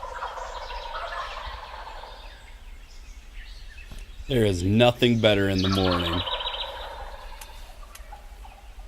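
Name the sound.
wild turkeys gobbling on the roost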